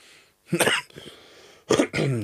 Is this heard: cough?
yes